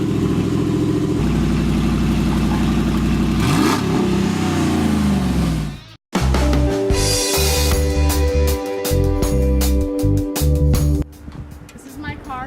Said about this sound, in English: The exhaust fell off, so it's real loud.